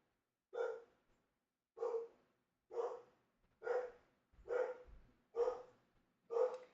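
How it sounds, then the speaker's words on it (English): A dog barks seven times at a steady, evenly spaced rhythm, each bark sharp and fairly close, with nothing else heard between them. "My dog is barking in the background."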